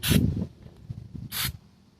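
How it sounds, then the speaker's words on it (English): Two short hissing bursts of contact cleaner spray into a Lister engine part near the commutator ring, close up, separated by a brief pause with faint rustling handling noise in between. "You know, a little spray just in there."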